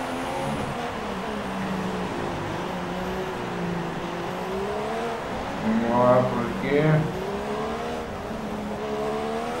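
Formula 1 car accelerating hard out of the Senna S at Interlagos during the 2016 Brazilian Grand Prix, its engine note rising and swelling past under continuous commentary and steady crowd and track noise.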